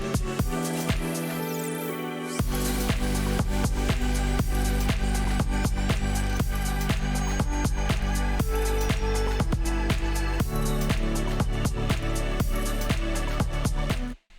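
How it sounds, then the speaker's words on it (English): A tonal synth riser sits in the mid range of an FL Studio electronic track, sustaining loud and steady over a dense, pulsing beat that starts thin and fills out after a couple of seconds, with no voices. "I had this tonal riser playing on the second drop."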